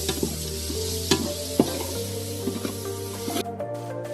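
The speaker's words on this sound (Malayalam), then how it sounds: "നമുക്ക് പൊടിയെല്ലാം നന്നായിട്ട് വാടിയിട്ടുണ്ട്, കുറച്ച് തക്കാളി ചേർത്ത് കൊടുക്കാം." A spice masala fries with tomatoes for Kerala kappa biriyani, with a steady sizzle, several sharp stirring scrapes and clinks of a spoon against the pan, moderately close and without talk.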